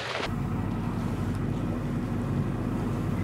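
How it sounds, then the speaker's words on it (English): Sailboat motoring under engine with the mainsail still up on the North Sea, a low steady drone with wind rushing over the microphone throughout. "So we're going with the engine."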